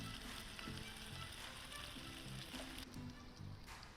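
Paneer tikka pieces frying in a pan, giving a steady, loud broadband sizzle that runs unbroken throughout, with faint low clatter and a murmur of voice underneath.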